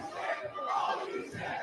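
A wrestling crowd roars and cheers in a continuous loud swell of many voices, rising and falling across a brief stretch with no talk over it.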